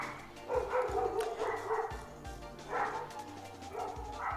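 A dog barks in repeated bursts, a few moderately close woofs spaced across the stretch with quieter whimpering tones between them.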